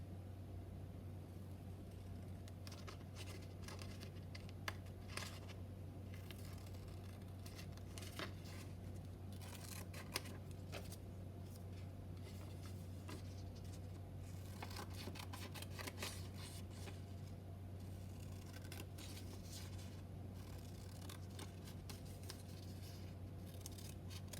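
Scissors snip through paper while icons are cut out, a steady series of soft crisp clicks and rustles over a constant low hum, fairly quiet and with no talk.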